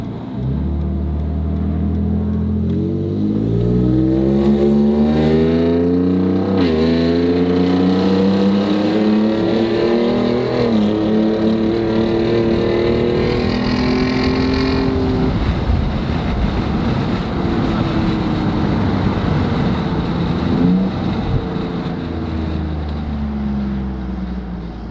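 A Ford F-150 Raptor with full bolt-on upgrades and big tires accelerates hard. Its engine rises loudly and up close through several climbing revs and shifts, then settles back down.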